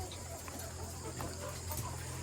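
Hens cluck faintly and steadily inside an RTL chicken farm's laying house, a low, continuous background of fowl sounds with no clear voices.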